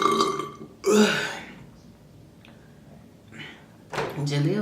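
Several loud, drawn-out burps after drinking Coca-Cola, close to the mic, with quieter gaps between them and a brief voice sound in between.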